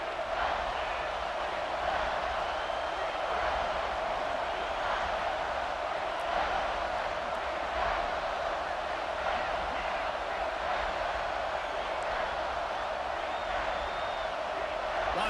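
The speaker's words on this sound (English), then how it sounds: "This crowd knows when to bring it." Stadium crowd in an American football video game during a road game, a steady broad roar of cheering fans held at even loudness throughout, with faint commentary-like voices mixed underneath.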